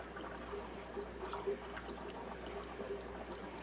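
Water fills a fry box in a fish room with a steady pouring rush and soft gurgling bubbles under a constant low hum, close and moderately quiet.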